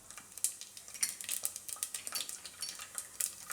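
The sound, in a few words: mustard seeds and cumin added to hot oil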